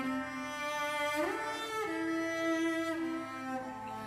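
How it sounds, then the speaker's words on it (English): A solo cello sample library plays a sustained, vibrato-rich melodic line, bowing a few held notes with smooth slides between them, clear and alone. "I have this City Samples Tina Guo solo cello library,"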